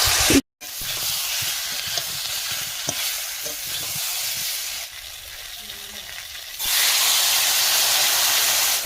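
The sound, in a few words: frying fish curry spices in a pan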